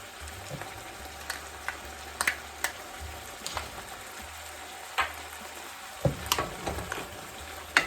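Garlic going into a pan of simmering pizza pasta sauce, with a soft steady sizzle and bubbling under scattered light clicks and taps of a utensil, no talking.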